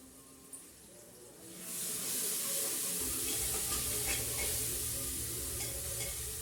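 Spices for a potato vegetable curry tempering in hot oil, a quiet start that breaks into a loud, steady sizzle with faint stirring, no voices.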